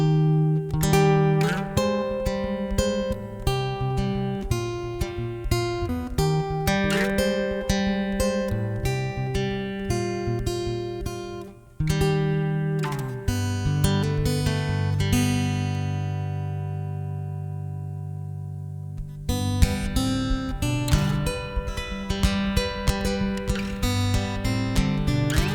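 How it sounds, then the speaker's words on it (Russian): Acoustic guitar through a NUX AC-25 amp with its hall-like reverb, playing a continuous fingerpicked passage of ringing notes and chords whose long tails blend and sustain, with no talking. "как будто это пружина, но по звуку скорее напоминает холл"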